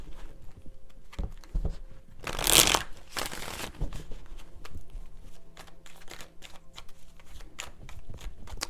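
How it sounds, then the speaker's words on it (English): Tarot cards are shuffled in quick, soft riffling bursts with a louder flurry in the middle, followed by scattered light taps and slides of cards, quiet and close with no talking. "Three shuffles."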